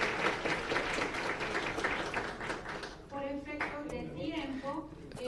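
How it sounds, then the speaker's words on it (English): A crowd claps steadily for a few seconds for conference panelists, then the applause thins out and a voice begins speaking. "Please, a round of applause for panelists."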